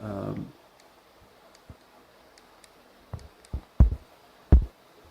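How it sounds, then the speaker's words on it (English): Crisp, crunchy clicks from buttons being pressed on a camera body, a handful of sharp isolated presses spaced irregularly in a quiet room, close and fairly faint, with a brief burst of sound at the start. "make sure it is like you get the crunchy noise while you press the button"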